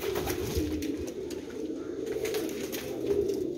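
China teddy pigeons cooing in a loft, soft repeated low coos close by over a steady murmur of other birds, with no talk.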